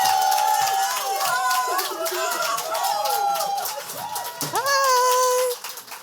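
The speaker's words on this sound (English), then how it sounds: "Let's give a warm round of applause for Emma." An audience claps to welcome a speaker named Emma to the stage at a talk. The clapping is lively and sustained for several seconds, with voices and cheers over it, then stops abruptly near the end.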